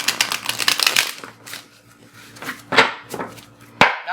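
Tarot cards are shuffled by hand in a series of quick papery riffles and taps, followed by a few sharper card slaps, close and fairly loud with no voices.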